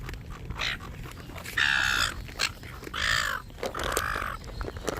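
A noisy flock of birds squabbles in the evening in Australia, giving loud, harsh, crow-like calls in several overlapping bursts close by.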